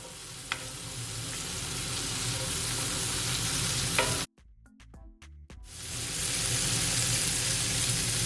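Onions frying in a pan for jerk chicken tacos, a loud continuous sizzle with stirring, cut by a sudden drop to near silence for about a second before the hiss returns.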